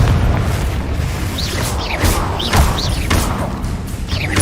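Repeated fiery blasts from the Confringo spell in Hogwarts Legacy, a series of loud booming bursts with crackling whooshes and sweeping tones every half second or so, dense and continuous, with no speech over them.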